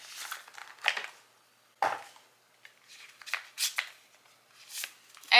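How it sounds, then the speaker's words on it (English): A color scheme card is drawn from a deck: a few close, papery rustles and slides of card stock, spaced irregularly with quiet gaps between. "let's pull a color scheme card"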